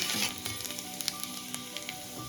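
Five-spice tempering sizzles in leftover fish-frying oil, making a loud, dense, continuous crackle up close with small popping spits scattered throughout.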